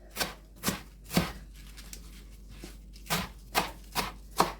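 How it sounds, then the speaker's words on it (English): A knife chops wild garlic leaves into small pieces on a board, seven crisp close cuts falling at a steady unhurried rhythm with short pauses between them, nobody talking. "Now all I'm going to do is just chop this into small pieces."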